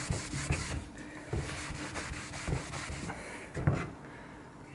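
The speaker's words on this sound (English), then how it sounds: "Get a cleaner cloth and start buffing it up." A cloth buffs a charred Shou Sugi Ban burnt wood surface with steady, close rubbing strokes that swell and fade in an uneven rhythm, with no voices.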